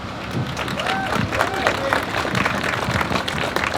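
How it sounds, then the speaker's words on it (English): Crowd applause welcoming a speaker at an outdoor rally for reopening schools: steady, dense clapping mixed with murmuring voices and scattered cheers, continuous throughout at moderate loudness. "If you give him a round of applause."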